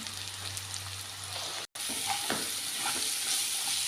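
Masala of ground coriander, cumin powder and salt cooking in a pan for a chicken masala, a steady close sizzle with light stirring scrapes, briefly cut off by a short gap.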